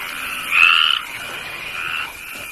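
A dense chorus of frogs croaks close by, swelling in a loud burst early on, then continuing steadily at a lower level with a second rise toward the end.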